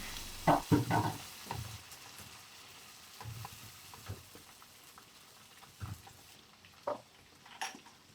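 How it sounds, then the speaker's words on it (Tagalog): Canned Century Tuna tipped into a hot pan for a budget Filipino-style carbonara, with a burst of sizzling at the start followed by scraping and stirring, then quieter intermittent clinks and scrapes as the food keeps cooking, with no voices. "Ilalagay na natin yung ating century tuna."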